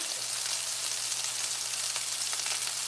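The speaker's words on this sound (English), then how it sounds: "Gonna let this sear" Lamb meatballs searing in a hot pan give a steady, even sizzle and crackle with a low hum beneath it, with no talking.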